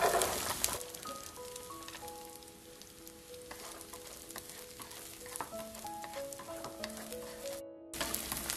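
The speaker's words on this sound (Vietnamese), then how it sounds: "Mình xào cho cái lạp xưởng nó hơi tươm cái mỡ ra thế này rồi á" Lap cheong Chinese sausage sizzles steadily in hot oil with fried shallots in a pan, a dense continuous frying hiss with faint tonal music underneath, briefly cutting out near the end.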